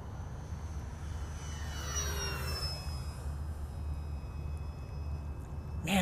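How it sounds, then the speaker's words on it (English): A radio-controlled FW190 model warbird flies overhead, its whining propeller engine sweeping in pitch as it passes, steady and moderately distant over outdoor background noise, with no speech. "Man, this little FW190 just flies so straight."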